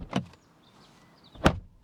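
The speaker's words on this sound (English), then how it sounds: "the thud off those doors is like nobody else" Two short, solid thuds about a second and a half apart as Audi Q8 e-tron car doors shut, the second louder, with quiet between them.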